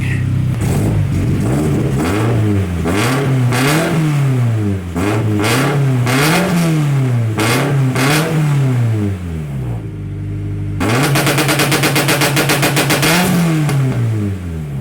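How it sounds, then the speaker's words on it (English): A turbocharged Subaru FR-S with a titanium straight-pipe exhaust revs repeatedly in rising and falling bursts, close and loud, then settles into a steady, fast-pulsing high idle. "Always warm your car up before revving."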